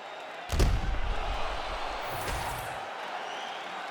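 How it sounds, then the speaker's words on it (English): Arena crowd in EA Sports UFC 5 roaring as a round gets underway, a heavy thud opening a broad, sustained wash of cheering that swells briefly and then fades. "an appreciative capacity crowd on its feet as this next round gets underway"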